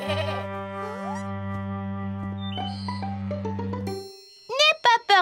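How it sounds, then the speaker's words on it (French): Sheep at a children's zoo let out a long, wavering bleat, close and prominent, followed by a bright chime, then short bursts of a person speaking at the end. "N'aie pas peur, Mousseline, c'est des moutons. Ils sont doux et gentils."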